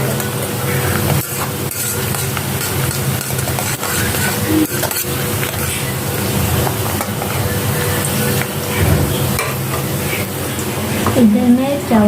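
Food frying in a pan in a home kitchen, a constant loud sizzling hiss with occasional scraping and stirring clatter, with voices nearby.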